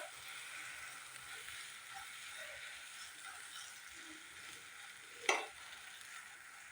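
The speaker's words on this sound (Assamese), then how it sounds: "এইখিনি মই ভালদৰে ভাজি লওঁ।" Cumin, coriander and red chili powder masala fries in a pan over a low gas flame for a chole paneer curry, a faint, even sizzle with one sharp scrape of stirring near the end.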